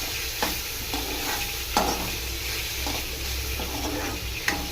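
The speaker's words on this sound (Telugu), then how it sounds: "పచ్చివాసన పోయేదాకా వీటిని ఇలా కలుపుతూ ఉండాలి" Masala with ginger paste sizzles in a pan while being stirred, a steady frying hiss broken by periodic scraping strokes of the spoon, close and without speech.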